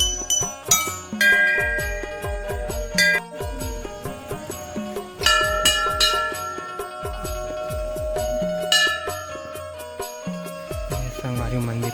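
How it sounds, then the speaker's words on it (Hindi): Small temple bells ring continuously with bright, overlapping metallic tones alongside steady rhythmic drumming during Hareli festival worship at a village Mata Rani temple, loud and busy throughout. "छोटे छोटे घंटी।"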